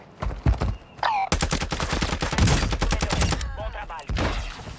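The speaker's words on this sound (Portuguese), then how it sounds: "Tem muito sniper me atirando" Gunfire in the Warzone 2.0 solo battle royale, with single cracks followed by a long, dense rapid volley and then a few scattered shots, loud and close.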